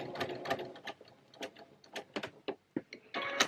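A home sewing machine stitches piping onto the raw edge of a fabric belt for a lightweight summer dressing gown, running in short, close, choppy bursts of mechanical stitching with brief pauses between them.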